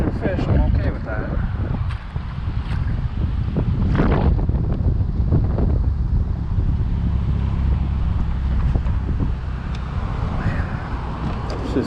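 Strong wind buffets the microphone on a lake during bass fishing, a loud steady roar with gusts, water sounds and a voice talking at times.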